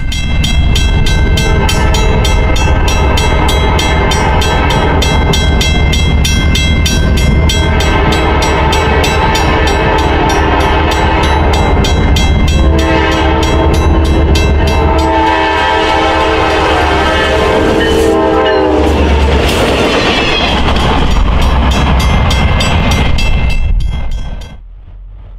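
A loud freight train rumbles past close by on a Michigan City street, its horn blaring repeatedly over the rolling clatter of wagons before the sound fades at the end.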